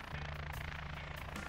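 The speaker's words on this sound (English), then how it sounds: "Uh-oh, he's got the helicopter." A helicopter in an animated children's quiz cartoon: a steady, loud rotor and engine drone with a low pulsing hum, continuous and alone throughout.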